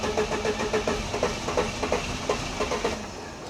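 A Saab's engine cranks steadily without catching, a rapid, even chug of starter pulses that continues unbroken and fairly loud, with no voices.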